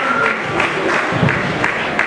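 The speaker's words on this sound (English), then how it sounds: "Please clap for Jesus." Applause from a wedding ceremony congregation, a steady patter of many hands clapping at moderate distance with scattered louder claps and some crowd voices mixed in.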